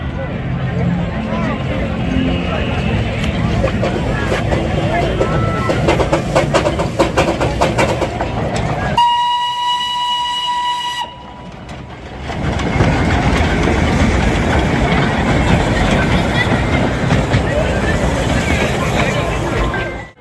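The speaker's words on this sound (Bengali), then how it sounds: "এক্ষুনি টয় ট্রেনটা গেল" The Darjeeling toy train rumbles and clatters past close by, loud and continuous, dropping out briefly midway before the rolling noise returns.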